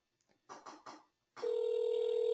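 A phone call goes out to a cell number. Three short tone bursts sound first, then after a pause a steady, loud telephone tone holds to the end.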